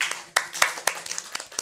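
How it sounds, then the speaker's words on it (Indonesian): A few people clap sharply in a studio during an Indonesian backstage talk show, with about six distinct claps spread unevenly across a second and a half, quiet between each. "Tepuk tangan."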